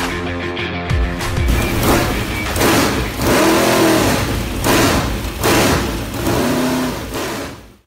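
A race car engine on a backyard racetrack revs loudly and repeatedly, with rising and falling bursts of throttle over a steady rumbling idle, close and continuous.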